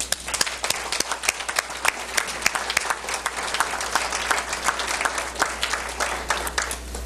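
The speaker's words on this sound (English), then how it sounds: "please give yourselves a well-deserved round of applause" A crowd at a hospital birthday celebration gives sustained applause, a steady wash of many hands clapping with sharp individual claps standing out, fairly close and without talking.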